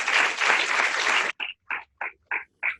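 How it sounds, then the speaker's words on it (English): An audience in Chennai gives a burst of applause at a space program talk, a dense wash of clapping that stops abruptly and gives way to five evenly spaced, separate sharp claps. "I would request Chennai audience to give a big applause"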